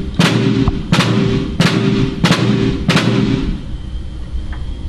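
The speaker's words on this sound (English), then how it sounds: "Then there are what's called flams, and they sound kind of like the word flam." Five evenly spaced snare drum flams crack loudly and close, each a sharp grace-note-and-main-stroke hit about two-thirds of a second apart, over a steady background hum, then fading into quiet.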